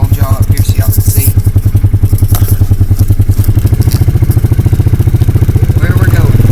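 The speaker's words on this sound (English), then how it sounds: "as we drive back here on our little Polaris Ranger" A Polaris Ranger utility vehicle driving over bumpy ground, its steady mid-pitched engine drone pulsing rapidly with rattling and clatter from the rough terrain, loud and close throughout.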